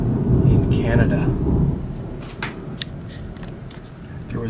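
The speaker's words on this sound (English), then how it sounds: "This is my first big thunderstorm since being back in Canada." A thunderstorm in Peterborough, Ontario opens with a heavy low rumble of thunder over the first two seconds, then eases to a softer hiss of rain with scattered faint crackles.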